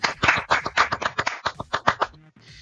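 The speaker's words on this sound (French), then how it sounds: "Je pense qu'on peut s'applaudir." A short burst of lively hand clapping from a small group, close by, fading out after about two seconds.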